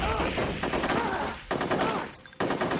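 Rapid bursts of gunfire in the Conker's Bad Fur Day war chapter crackle densely and loudly, then break off briefly near the end before resuming, with a voice faintly present underneath.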